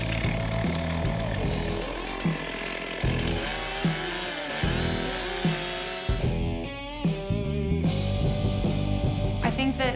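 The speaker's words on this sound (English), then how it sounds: "I think that the sound of the chainsaw itself is a lot more intimidating than actually using it." A chainsaw runs steadily while people try lumberjacking for a day, its loud buzzing engine rising and dipping as it revs and cuts, with a voice talking over it.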